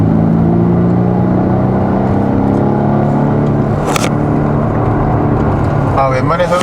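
A Volvo V60 Cross Country T5 rolls slowly through water on a winding road, a loud steady engine and tyre rumble from inside the cabin with a brief splash burst midway and a voice at the end.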